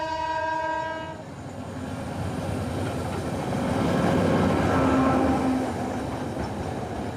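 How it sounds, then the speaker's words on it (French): A train passes close by on a busy French rail line, its horn blaring in a loud sustained blast at the start, followed by a heavy rushing roar of wagons that swells and stays loud to the end. "on va s'arrêter, il y a un train. On entend le train."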